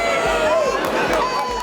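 A crowd at a Cubs baseball game outdoors: loud, continuous murmur and chatter with rhythmic low thumps and a few shouts rising above, all dense and close.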